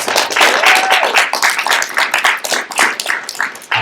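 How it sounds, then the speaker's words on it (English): A live audience claps in a round of applause welcoming an author onstage at a talk, dense and steady throughout, with a few voices and a whistle-like tone mixed in. "let's give a round of applause."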